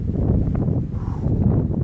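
Strong gusting wind among trees in forested Skamania country, a steady loud low roar with buffeting against the microphone throughout, no speech.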